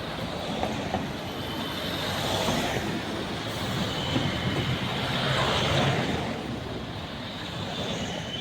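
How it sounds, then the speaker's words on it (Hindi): The South Bihar Express rolls into Tatanagar railway station, a continuous near rumble of wheels on track with faint squeals and clatter that swells and eases over several seconds. "झारखंड के राज्यपाल Santosh Kumar Gangwar south Bihar express train से टाटानगर रेलवे स्टेशन पहुंचे"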